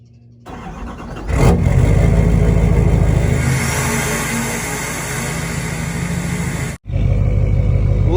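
A Duramax diesel pickup truck starts from cold: a short cranking whir, then the engine catches and settles into a loud, rumbling idle close by, dips for a moment, then resumes its steady clatter.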